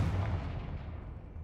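A Confringo fire spell from Hogwarts Legacy on PlayStation 5 lands as one loud, booming blast with a heavy low rumble that trails off over about a second and a half.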